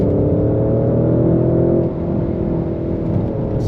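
A Porsche Cayenne pulls hard just after a manual upshift, its engine a steady, loud, close drone with a slight dip in pitch partway through as it keeps accelerating; no voices.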